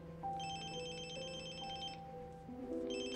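A telephone rings indoors with a repeating electronic warble in short bursts, fairly clear and alone with no talking.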